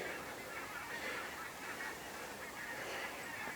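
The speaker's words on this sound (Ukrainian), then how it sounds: "А над моєю головою пролітають цілі табуни диких гусей." Wild geese honking repeatedly at a distance, their calls blending into a continuous overhead chorus with no talking.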